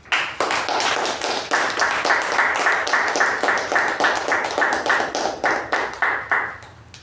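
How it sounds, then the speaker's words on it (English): A crowd at a Toastmasters club meeting applauds steadily for several seconds, dense clapping that tapers off near the end. "We'll give a special round of applause to that person"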